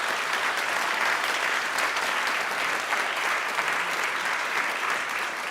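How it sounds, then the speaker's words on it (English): A conference audience gives a warm round of applause for four speakers at the close of a session on circularity, a dense, steady wash of many hands clapping that holds evenly throughout, loud and close. "a very warm round of applause"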